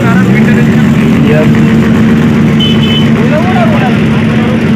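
A Suzuki Hayabusa 1000cc superbike engine rumbles and revs close by on a road ride, a loud steady drone with people talking over it.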